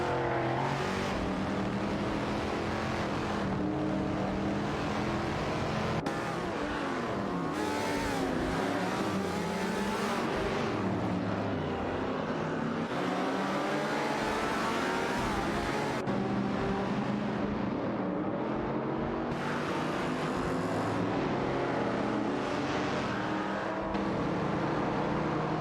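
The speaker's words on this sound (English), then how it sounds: "It appears that the gentleman is gaining an advantage as they navigate through the corners, showcasing the agility of the GTO against the Monaro's raw power" A Holden Monaro and a GTO race in a video game, their engines droning and revving continuously at steady volume, with shifts in pitch through the corners and faint tire squeal, and no voices.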